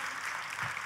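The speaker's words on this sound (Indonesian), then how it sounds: "Boleh sekali lagi tepuk tangannya yang paling meriah buat Yesus Tuhan kita." A church congregation applauds, a steady, even wash of clapping heard from a distance, faint and continuous for under a second with no voices.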